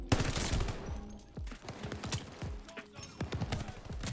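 Rapid bursts of BAR automatic rifle fire in a World War II shooter game, sharp repeated shots in quick clusters, loud and close, with brief gaps between volleys.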